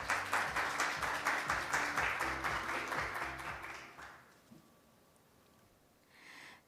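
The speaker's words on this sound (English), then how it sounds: "Please welcome him with a warm round of applause" Audience applause rings out to welcome the chair of a Korean chapter at an opening ceremony, steady dense clapping for about four seconds before it fades into quiet room tone.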